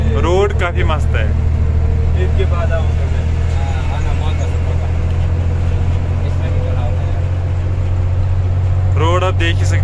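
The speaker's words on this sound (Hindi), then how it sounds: "वो अपनी गाड़ी धीरे धीरे जा रही है क्योंकि वो लोडेड गाड़ी है ना" A loaded truck rolls slowly along a road near Jammu, its engine a steady low rumbling drone throughout, with someone talking briefly over it at the start and end.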